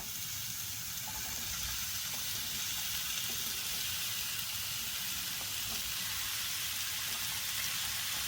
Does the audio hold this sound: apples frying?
yes